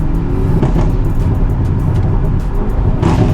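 A car engine drones loudly and steadily from inside the cabin, its pitch easing as the transmission shifts gear, with no one talking.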